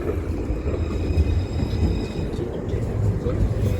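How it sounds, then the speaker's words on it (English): A Luas tram rumbles steadily along rails near Connolly station in Dublin, a continuous low roar with faint high squealing tones above it, no pauses throughout. "Extra trams are running in and out of Connolly at this stage."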